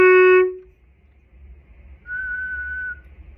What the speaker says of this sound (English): you kind of want to whistle a throat tone A flat